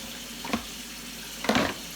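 Warm water runs steadily from a tap into a Bissell SpotClean tank. A constant rushing hiss is interrupted by two brief splashy surges as the flow shifts, with no talking.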